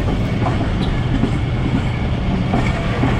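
The Thal Express passenger train runs through Sohan Bridge station just past the bridge, heard from on board as a loud, steady rumble with faint rhythmic wheel clatter throughout.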